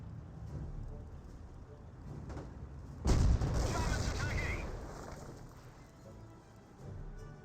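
Artillery barrage from a Priest self-propelled gun in Company of Heroes, a British versus Wehrmacht match: a sudden heavy boom hits midway and rumbles on under a layer of ongoing battle noise.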